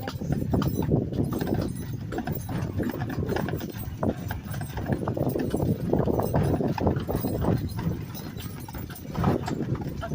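Hooves clip-clop in a steady, continuous rhythm as a horse-drawn kalesa rolls along, with faint road noise around it and no talking.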